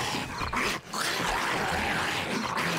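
A dog in the survival video game 7 Days to Die makes rough, noisy whimpering and growling sounds in a dense, continuous burst with one brief dip, with no talking.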